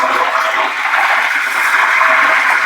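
Salt water is poured into hot oil where potato chips made from ordinary curry potatoes are frying, setting off a loud, steady, close sizzling hiss that lasts throughout with no talking.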